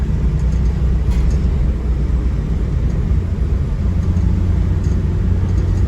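A 1961 Ford Falcon Futura on the move, its engine and road noise forming a loud, steady, even rumble throughout with no talk over it.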